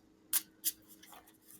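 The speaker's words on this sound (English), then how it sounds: "One more shuffle." Tarot cards being shuffled by hand, two sharp riffling bursts close together followed by a softer, fainter rustle of cards, with no talking.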